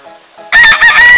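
A rooster crows once, close and loud, after a brief quiet lead-in with faint background hum.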